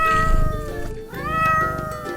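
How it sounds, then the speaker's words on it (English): A cat gives a couple of drawn-out, tonal meows, clear and close, with no talking over them. "It's the cuddly cat."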